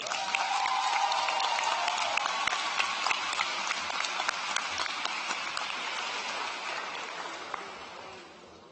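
Sustained applause from a large crowd at a high school graduation ceremony, steady clapping that gradually fades toward the end.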